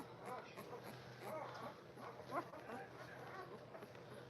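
A puppy makes soft, high little whimpers and squeaks, a few brief cries scattered across a faint, steady indoor background.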